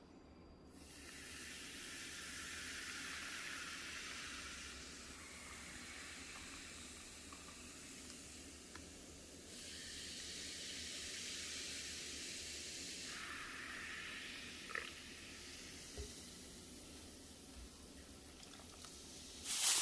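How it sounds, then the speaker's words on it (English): Dr Pepper pours steadily over ribs in a baking dish, a soft continuous fizzing hiss in a few long streams with small splashes, fairly quiet and close. "Now I'm going to pour in the Dr. Pepper."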